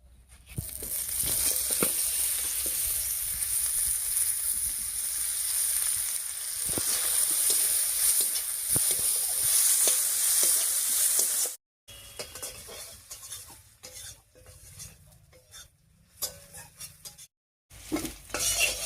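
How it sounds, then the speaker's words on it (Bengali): Oil sizzles loudly and steadily as chopped onion fries with dried fish, with a spoon scraping and stirring the pan, then the sizzle drops and returns in bursts. "এবার এই শুটকি মাছের তেলের মধ্যেই পেঁয়াজ কুচি দেবো"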